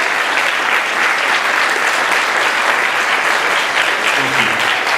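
Sustained, loud applause from a big crowd honoring the Tuskegee Airmen, thick overlapping claps steady from start to finish, with a faint low voice surfacing near the end.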